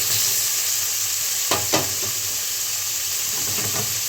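Potatoes and prawns fry together in a pan, producing a loud, steady sizzle close by, broken by a couple of brief stirring scrapes.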